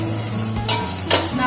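Pabda catfish frying in a pan, a steady oily sizzle with a few louder crackling bursts over a low background hum, close and fairly loud throughout.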